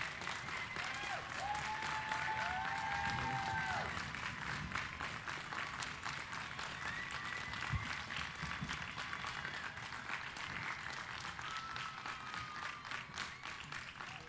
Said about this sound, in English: Let's please give a huge round of applause to our graduates right now.